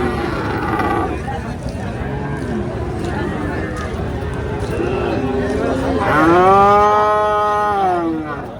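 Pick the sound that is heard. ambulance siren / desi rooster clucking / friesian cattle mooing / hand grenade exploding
friesian cattle mooing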